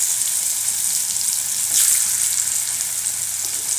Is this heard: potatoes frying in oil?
yes